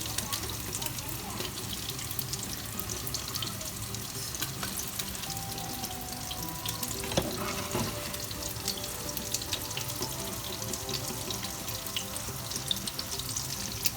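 Hamburger patties fry in plenty of hot oil in a home kitchen, giving a steady, dense sizzle and crackle that runs without break across the whole stretch, close and moderately loud.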